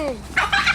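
Two sharp, loud chicken squawks in quick succession, close by, like birds scuffling.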